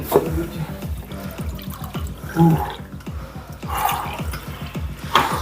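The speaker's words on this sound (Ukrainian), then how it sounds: "Водички налити тобі." Water poured from a bottle or jug into a cup or glass during a workout break, a steady liquid trickle with dripping splashes running throughout, fairly close, with a brief louder moment midway.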